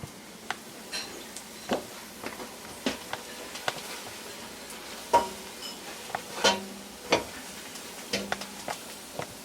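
Onion soup thickened with flour simmers gently in a pot while a spoon stirs it, giving scattered scrapes and soft clicks over a faint steady bubbling hiss, fairly close and quiet.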